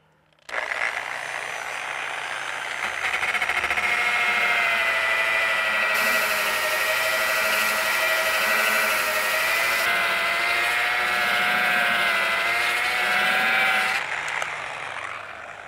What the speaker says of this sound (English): when I'm sanding it, I can tell when I'm getting down even to the same spot